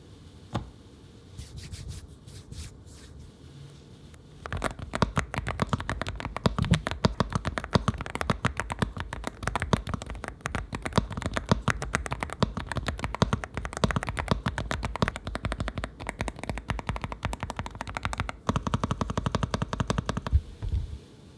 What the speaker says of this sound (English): Let's do a quick typing test and show you how this thing sounds right outside the box.